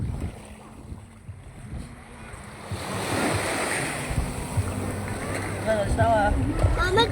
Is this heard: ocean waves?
yes